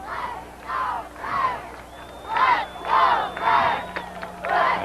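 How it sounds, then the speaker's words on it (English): Cheerleaders at a 1998 high school football game between Marshall and Coldwater lead the crowd in rhythmic chanted shouts, with regular bursts of voices that repeat about twice per second and ring out over the stadium. "You hear the cheerleaders getting the crowd into the game."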